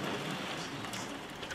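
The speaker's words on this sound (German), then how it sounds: "Ist das Hagel? Hagel!" Hail and rain pelt down during a thunderstorm, a dense steady hiss of drops striking surfaces with no clear break.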